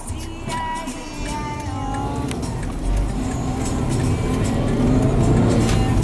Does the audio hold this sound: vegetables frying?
no